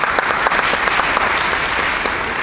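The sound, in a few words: applause at parish meeting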